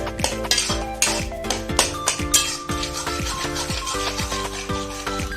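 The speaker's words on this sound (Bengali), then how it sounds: "এই খুন্তির সাহায্যে এইভাবেই কিন্তু ভালো করে এভাবে থেতো করে" Soft cooked tomatoes being pressed and mashed with a metal spatula in a pan for a sweet Bengali chutney, with repeated scraping and clinking strokes against the pan in a steady rhythm, close and fairly loud.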